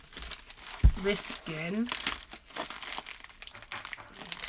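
Crinkly plastic mail packaging with bubble wrap inside is handled and pulled at, giving loud close crinkling and rustling while someone talks over it.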